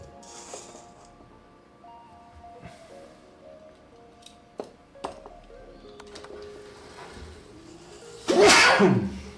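After a stretch of quiet room tone with a few faint clicks, a single sharp sneeze bursts out near the end.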